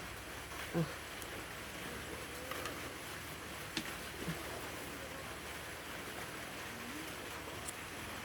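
Heavy steady rain hisses evenly throughout over a rubber plantation, close and continuous, with a few faint knocks and taps poking through.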